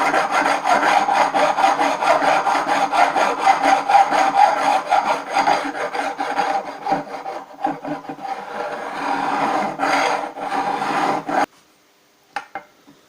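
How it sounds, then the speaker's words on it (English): A metal file rasps rhythmically back and forth over guitar frets in steady strokes, loud and close, then stops abruptly near the end with a couple of faint taps. "what I'm doing there is I'm holding my thumb on the file, and when I'm running it down"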